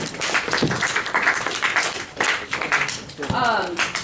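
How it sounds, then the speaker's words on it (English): A small group claps in scattered, uneven bursts, with voices talking and a brief laugh mixed in. "But can you at least clap?"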